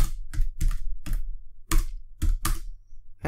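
Code being typed on a computer keyboard: about eight separate, crisp keystrokes land close by at an uneven pace with short pauses between them, and no voice.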